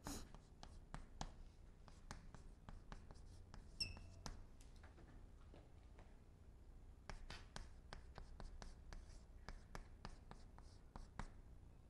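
A pen or brush writes characters on paper during a lecture, quiet scratchy strokes in quick irregular bursts with short pauses, close and soft, with no talk over them.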